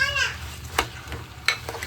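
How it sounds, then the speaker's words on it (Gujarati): Spiny gourd (kankoda) curry being stirred and mixed in a pan, with soft scraping and a few sharper utensil knocks over a low background sizzle, while a voice is faintly heard. "મસ્ત મજાનું બધું મિક્સ કરી લઈશું સરસ રીતના."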